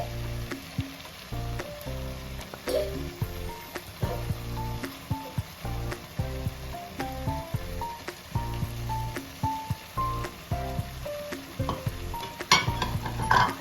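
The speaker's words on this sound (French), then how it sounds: "Là, on va encore remuer le tout." Beef tripe sizzles steadily in a hot pot while a utensil stirs it, with scraping clinks against the metal throughout.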